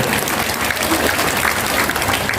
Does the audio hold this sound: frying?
no